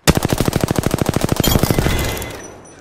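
A video game's automatic weapon fires a long rapid burst of evenly spaced loud shots, then the echo fades out, with no talk over it.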